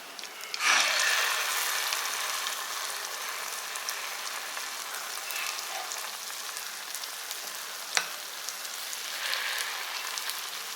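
Leftover dosa batter sizzling in ghee in a hot pan for a sweet stuffed dosa, a dense crackling fry that starts loudly, settles into a steady hiss, and pops sharply now and then.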